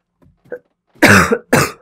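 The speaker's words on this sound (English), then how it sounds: "He's literally coughing up blood." A sick young man coughs twice, loud and close, each cough a short harsh burst, preceded by faint throat sounds.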